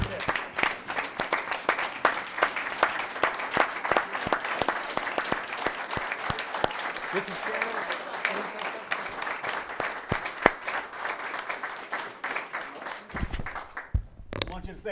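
Sustained audience applause at a county commissioners meeting, loud close clapping from many hands with scattered individual claps standing out, ending abruptly near the end before a brief sound.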